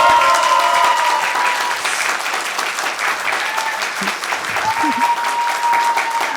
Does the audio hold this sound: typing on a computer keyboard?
no